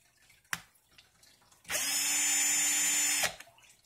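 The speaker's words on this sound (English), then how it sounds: "Bring the wire semi-parallel and spin the drill at full rotation for" A power drill spins at full speed for about a second and a half to fuse wire into a 28-gauge Clapton coil, a loud, steady whirring whine with a sharp click just before it and quiet after.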